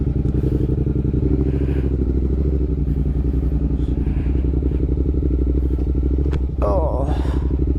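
A motorcycle engine thrums loud and close as the bike is ridden, a steady rumble with clattery texture and a brief rise near the end.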